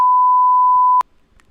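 A single pure, loud tone beeps for about a second as a censor bleep, then cuts off into near silence.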